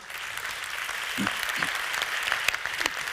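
Audience applause at a French business awards ceremony, steady clapping of moderate loudness throughout, with a few louder individual claps standing out near the middle and end.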